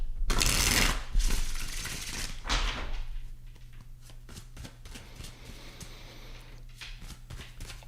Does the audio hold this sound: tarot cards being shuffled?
yes